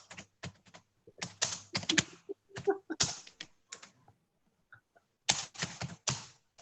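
Fast, forceful typing on a computer keyboard comes in hard clattering bursts of keystrokes separated by short pauses, close and distinct with no talk over it.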